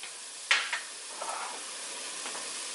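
Onion sautéing in avocado oil in a pan, a soft, even hiss of frying with a couple of brief clinks near the start, fairly quiet and close.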